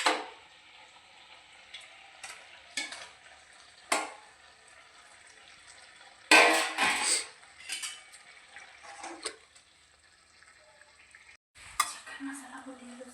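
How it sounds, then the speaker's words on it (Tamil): A spoon stirring boiled eggs through thick egg gravy in a cooking pan, giving soft scraping and clinking strokes at irregular intervals over a low background, with one louder burst of stirring and pan contact midway. "இப்போ நம்ம அவிச்சு வச்சுருந்த முட்டையை இப்போ நம்ம இதோட சேர்த்துக்கிட்டு ஒரு கிண்டி விட்டுடலாம்."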